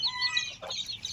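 Seven small Japanese chicks peep and cluck close by in a high, continuous chatter of overlapping calls, loud and with no talking.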